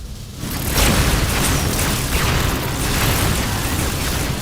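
Low-yield torpedo explosions from a Star Trek film erupt after a brief lull into a loud, sustained booming blast with rolling rumble that fills the whole stretch without letting up.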